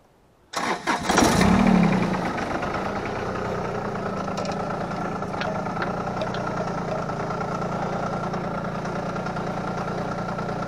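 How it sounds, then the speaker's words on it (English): A tractor with a backhoe attachment cranks and fires, its engine catching with a loud burst before settling into a steady, rumbling idle that continues alone for several seconds. "So let's get the tractor started."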